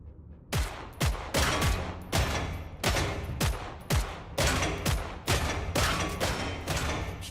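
Weapon fire in Killing Floor 3, set to single shot: a regular series of about a dozen sharp, loud gunshots at roughly half-second intervals, each with a short decaying tail.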